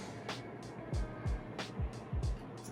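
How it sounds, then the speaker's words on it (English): Street traffic passes outside in a busy area, a steady muffled rumble with several vehicles swishing by one after another, heard faintly from indoors. "I stay in an area with a lot of traffic"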